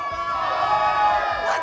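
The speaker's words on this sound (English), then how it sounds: "Crowd screaming that Lil' Cap is free." A Slap City crowd erupts in a dense, loud cheering scream that holds steady for over a second, with bright harmonic voices layered on top.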